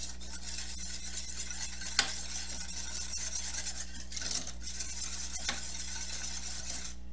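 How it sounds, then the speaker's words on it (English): Whisk scraping and stirring a mixture of whole milk in a pot, a steady faint swishing rasp with a few light taps against the metal, no talking. "So I'm just whisking it all together. We have 3 cups of whole milk. Whisk this together."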